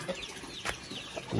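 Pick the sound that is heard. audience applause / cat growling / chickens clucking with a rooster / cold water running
chickens clucking with a rooster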